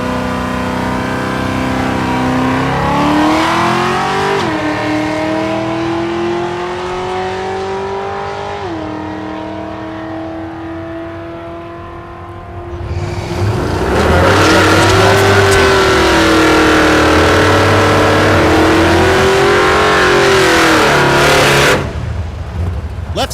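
Drag racing cars, including a Camaro, launching and revving at Thunder Valley in Noble, Oklahoma: loud engines climbing through repeated gear-change sweeps, a second hard surge midway, then a sudden cutoff, with commentary faintly underneath.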